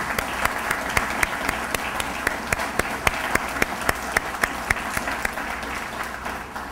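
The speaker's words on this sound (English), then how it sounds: "I'd like to ask all of you if you would give a round of applause to our speakers and our city" Round of applause from an audience at a police public safety training center groundbreaking ceremony, dense steady clapping with a few sharp individual claps standing out throughout, fairly close and loud.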